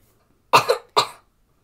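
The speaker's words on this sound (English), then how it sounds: "Just coughing a little bit." Two short, sharp coughs from one person, close and clear, separated by a brief pause in otherwise quiet surroundings.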